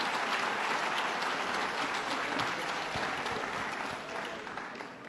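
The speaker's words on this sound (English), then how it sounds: "Let's give him a round of applause." Steady applause from an audience at a State of the State address on Staten Island honoring Interim President Fritz, dense clapping filling the room for about five seconds before easing slightly at the end.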